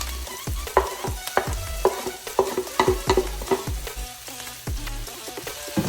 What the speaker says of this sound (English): Now I'm gonna go ahead and add my garlic.